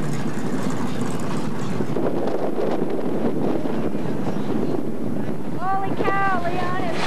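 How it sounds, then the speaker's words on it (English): Strong wind buffets the microphone at Magic City Speedway, a loud, continuous rumbling roar with gusty surges, and a few brief higher tones near the end. "Holy cow, Leon, it's windy as hell up here. I might get blown over."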